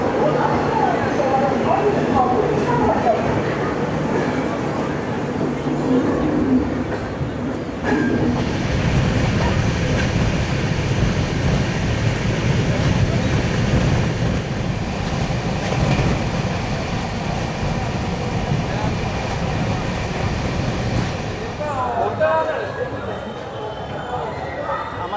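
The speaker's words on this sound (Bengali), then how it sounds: "ফাইনালি আমাদের ট্রেন আবার ছাড়লো" Amravati Express passenger train pulling away and running on the Kolkata to Goa route, a continuous loud rumble and rattle from on board, with a sharp clunk near the eight-second mark and the noise easing toward the end.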